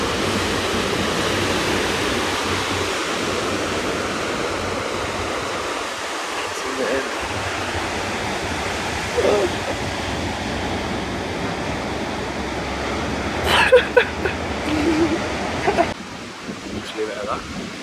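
Surf on Bondi Beach in Sydney makes a continuous broadband wash with gentle swells. Brief voices and a few sharp knocks come near the end.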